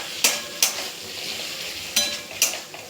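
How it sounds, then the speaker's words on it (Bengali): Egg curry masala stir-fried in a pan, a constant close sizzle broken by four sharp spatula scrapes against the metal at irregular intervals; no speech. "আর একটু কষিয়ে নেব।"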